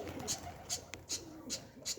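Pigeons coo in short repeated bursts about every 0.4 seconds, fairly faint against a low background hum.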